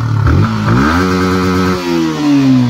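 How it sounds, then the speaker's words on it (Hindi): A Yamaha R15 V4 sport motorcycle engine blips and revs up sharply, then holds a loud, rising exhaust drone close by. "वी फोर का एग्जॉस्ट नोट सुना देता हूँ आपको"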